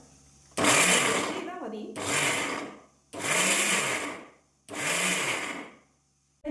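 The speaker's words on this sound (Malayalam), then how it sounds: "നമുക്കിത് മിക്സിയിൽ അടിച്ചെടുക്കാം." A kitchen mixer grinder crushes breadfruit with chillies, fennel and curry leaves in four loud, whirring pulses separated by short pauses, with a brief spoken word between bursts.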